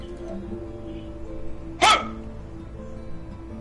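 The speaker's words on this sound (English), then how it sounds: "I was just confused, honestly, because I heard dogs." A dog gives a single short bark that stands out sharply against a low background hum during a podcast recording, with nothing else following it.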